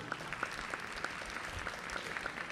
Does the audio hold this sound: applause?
yes